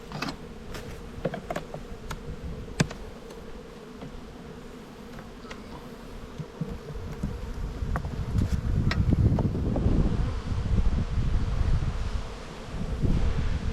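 Honeybees buzz around an open beehive during a spring inspection, a steady close droning swarm that swells louder partway through, with light clicks and wind noise against the microphone.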